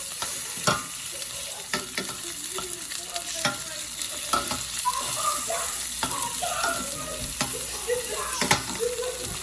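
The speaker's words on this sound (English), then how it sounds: "I'm gonna try to get this meat perfectly seared and under control" Steady sizzling and crackling of meat frying in a hot pan, with occasional scraping and stirring clicks, fairly close.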